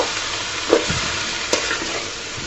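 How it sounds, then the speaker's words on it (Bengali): Water spinach (kalmi greens) is stirred and fried in a pan over medium heat, giving a steady close sizzle with a couple of soft scraping stir strokes and no voices. "আমি ভালো মতো নেড়ে চেড়ে শাকগুলোকে মিশিয়ে নিব"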